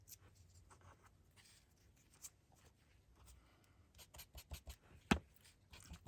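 Paper word embellishments are torn apart by hand, giving faint, close rips and crinkles in irregular bursts, with a sharper tear near the end.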